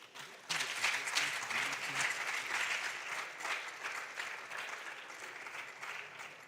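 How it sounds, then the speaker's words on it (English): Audience at a national junior science and maths quiz championship applauding its sponsors, a sustained round of clapping from a crowd that starts abruptly and holds steady, moderately loud, with a faint voice underneath. "I think our sponsors and partners deserve a big round of applause."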